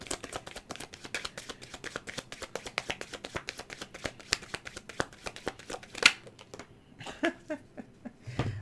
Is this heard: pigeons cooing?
no